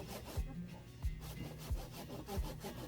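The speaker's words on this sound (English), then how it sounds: "I'm just using my handsaw right now. I already got half of it cut." A handsaw cuts through a wooden board during chicken coop building, making a rhythmic back-and-forth rasp with regular stroke accents, close and fairly loud.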